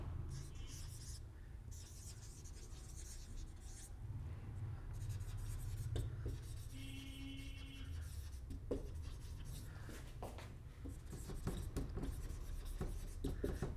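Pen or pencil scratching across paper while an example English sentence is written by hand, a steady soft rubbing texture with low room noise and a faint voice murmur.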